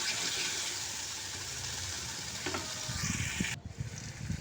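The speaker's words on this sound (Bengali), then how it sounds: "তো এটা আমি খুব ভালো করে কষিয়ে নিয়েছি মশলার সঙ্গে।" Spices for an egg korma sizzle steadily in a hot pan with a dense hiss. Scraping stir strokes come near the end, and the sound cuts off abruptly after about three and a half seconds.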